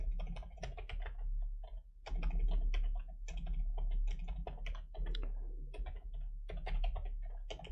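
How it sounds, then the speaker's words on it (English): Rapid, uneven clatter of keys on a computer keyboard, close up and steady, with quick bursts and short pauses over a low background hum. "So let's type in here."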